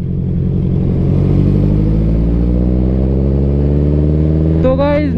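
A Honda CBR650R motorcycle engine pulls in a high gear at low speed, a loud, close, smooth low drone with steady rumbling harmonics and no knocking, and a voice briefly speaks at the end.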